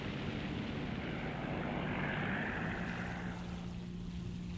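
The propeller engine of an XP-50 Skyrocket fighter in War Thunder drones steadily, a continuous rumbling hum with no talking over it.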